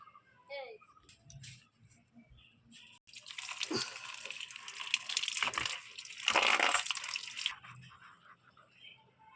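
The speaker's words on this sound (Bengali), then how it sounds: "এই তালটাকে আমি প্রথমে একটু ধুয়ে নেব ভালো করে" A whole palm fruit is washed by hand in water, with soft splashing and dripping close by that builds into a steadier wet rush for several seconds before easing off. There is no speech.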